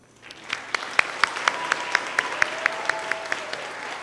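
Applause at a workforce graduation ceremony starts as a faint rustle, then turns into sharp, evenly spaced claps that stand out clearly over a quieter spread of clapping from the audience.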